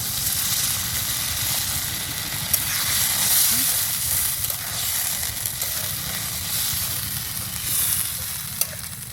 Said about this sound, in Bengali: একটু ঝোল দিয়ে দিচ্ছি